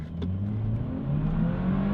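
A brand new BMW accelerates hard from a standstill at a green light, its engine revving steadily and rising in pitch as the car pulls away with full traction, close and continuous throughout.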